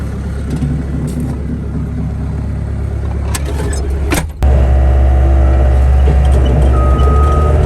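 Tractor engine running steadily while tilling a sweet corn plot, close and loud, with a clunk before the engine note steps up to a heavier, louder drone.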